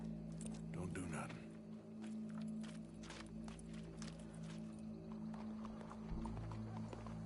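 Horse hooves clip-clop in the Western video game Red Dead Redemption 2, a run of quick, fairly close hoofbeats blended with game ambience and speech.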